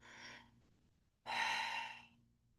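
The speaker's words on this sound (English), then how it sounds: "take a couple deep breaths" Two slow, deep breaths, a softer airy inhale followed by a pause and then a longer, fuller breathy exhale, close and quiet in a calm meditation setting.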